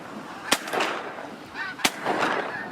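Snow geese, including blue morph birds, honking overhead at a waterfowl hunt, scattered honks under steady wind noise, with two sharp loud pops in between.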